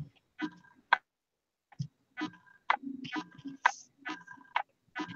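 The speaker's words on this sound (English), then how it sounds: "it's your autofocus clicking, Max." Steady, faint mechanical clicking from a camera's autofocus during an indoor craft session where a doily mini album is being made, sounding as short regular ticks, clock-like, scattered through the quiet with no speech over it.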